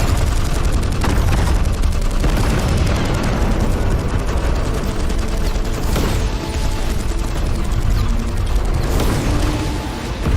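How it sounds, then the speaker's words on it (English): Enemy gunfire in a battle scene, a dense continuous barrage of rapid shots and booms with mechanical clatter, loud and unbroken throughout. "Taking enemy fire, locking on targets."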